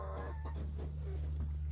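Hens clucking softly at close range over a steady low hum, with a few short throaty calls scattered through.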